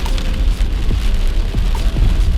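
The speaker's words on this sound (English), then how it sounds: "I know I'm tired of this rain." Steady rain falling on a surface, a dense continuous patter with no voices.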